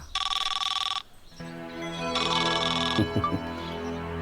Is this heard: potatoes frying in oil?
no